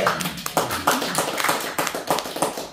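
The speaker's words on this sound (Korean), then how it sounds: "다 같이 박수 한번." A church service congregation claps together, a dense patter of many hands at close range, steady throughout with no voices over it.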